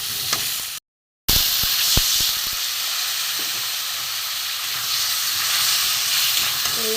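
Spices frying in a pan with taro and potato for a rohu fish curry, a loud, steady hiss of sizzling oil close by with occasional light scrapes and a brief dropout early on.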